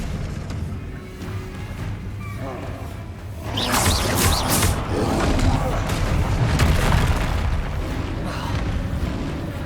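Spell blasts in Hogwarts Legacy boom and crackle in a dense run of impacts, loud and sustained after a quieter start, with a voice shouting over the combat.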